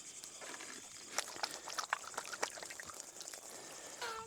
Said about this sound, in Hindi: बाकी अब मैं अच्छे से अपने हाथ धो रहा हूँ